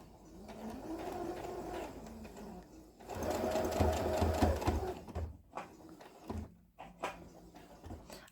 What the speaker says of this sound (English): I'm doing this with just the regular stitch on my sewing machine